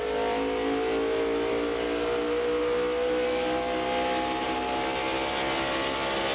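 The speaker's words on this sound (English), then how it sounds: "Riding with Jay Sauter now into that tight turn 1 and 2 corner" NASCAR Busch Series stock cars at the 2000 Carquest Auto Parts 250 roar steadily around a racetrack into a tight braking turn, a continuous loud engine drone with layered revving and no talk.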